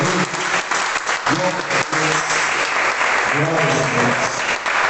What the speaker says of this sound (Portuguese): Você pode aplaudir o nome do Senhor Jesus